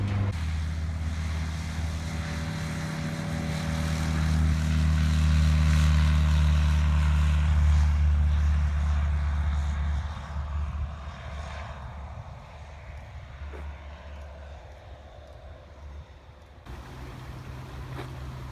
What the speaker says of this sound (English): They don't want me to film their amazing jet that came in.